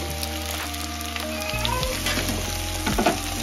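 Tomato and green chili frying in a pan, a steady close sizzle that thickens and grows louder midway as the wet vegetables hit the hot oil.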